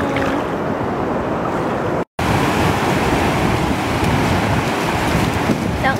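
Ocean surf breaks and washes onto a sandy beach in a steady, loud roar with wind buffeting the microphone, continuous throughout apart from one brief cut.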